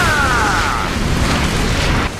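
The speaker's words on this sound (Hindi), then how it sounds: "ये आवाज और धमाके से दोहरा हमला करते हैं।" A cartoon explosion blast attack lands as a loud, dense, roaring burst of noise with a brief descending whistle at the start, filling about two seconds before it cuts off sharply.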